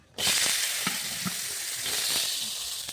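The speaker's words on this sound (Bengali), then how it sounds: "এবার আমি এই তেলের মধ্যে আমি গাজরগুলো ভেজে নেব" Carrots fry in hot oil for a vegetable dal, a steady, close sizzle that bursts in suddenly and holds evenly throughout, with a few soft knocks of stirring.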